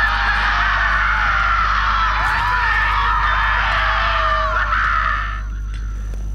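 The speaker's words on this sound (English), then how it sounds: "Do you hear screaming, or am I having another one of my episodes?" Harsh, wavering screams rise from a Borderlands 3 game scene. The sound is loud and sustained, with several voices overlapping over a steady low hum for about five seconds, then it cuts off sharply.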